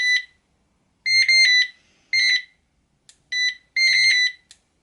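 DAM TF 2+1 fishing bite alarm sounding a series of loud, close electronic warbling beeps in short irregular bursts, with brief gaps of silence between them and no talking.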